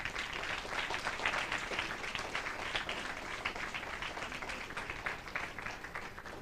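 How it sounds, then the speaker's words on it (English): Audience applause for Tony and John at an Italian middle school during an ARISS amateur radio contact with the space station, a steady dense patter of many hands holding at an even level for the whole stretch. "Un applauso ancora."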